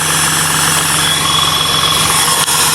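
A car engine runs steadily just after a front end swap, a loud continuous rough drone with a slight rattle, with no pauses and no voices over it.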